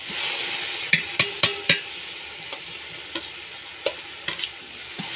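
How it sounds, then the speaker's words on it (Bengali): Ginger paste and bay leaves sautéing in a pan for village-style vegetable khichuri: a soft continuous sizzle under sharp intermittent scrapes and clinks of a stirring spoon, close and alone. "এবার এগুলোকে খুব ভালোভাবে আমি কষিয়ে নেব 5-7 মিনিট ধরে।"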